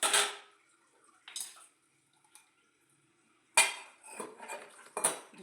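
Glass bowls clink and knock together while being rinsed, sharp bright contacts in scattered bursts with short silent gaps between, close up with faint trickling water.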